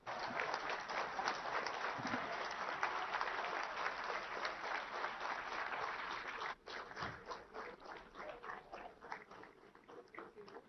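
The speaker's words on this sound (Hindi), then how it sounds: "सभी से निवेदन है कि एक बार और जोरदार ताली बजाकर उनका स्वागत करें" Loud, sustained applause from a large audience welcoming the Prime Minister at a ferry service inauguration event, dense clapping that briefly dips then continues more unevenly.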